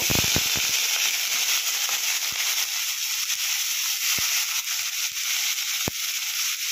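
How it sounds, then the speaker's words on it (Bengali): Broccoli frying in hot oil, a loud, continuous hiss and sizzle with scattered sharp pops and crackles spaced a few seconds apart, and no voices. "তো তেল গরম হয়ে গেছে, আগে আমি ব্রকলিগুলো একটু ভালো করে ভেজে নেব।"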